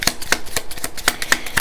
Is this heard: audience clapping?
no